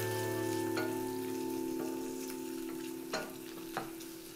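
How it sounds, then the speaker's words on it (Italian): Olives frying in a pan of sauce with sun-dried tomatoes, giving a steady close sizzle with a constant hum underneath and a few sharp clicks of a utensil against the pan, without speech. "Faccio cuocere un minutino anche le olive e poi aggiungo il tonno."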